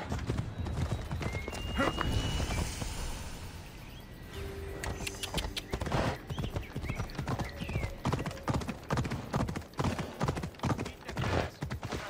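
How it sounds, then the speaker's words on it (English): Horse hooves in Assassin's Creed Odyssey clopping in a quick, regular rhythm, with a whinny and some mechanical clatter early on, the hoofbeats growing sharper and more distinct toward the end, with no talk. "Take this horse to either Adonis or to the stable boy."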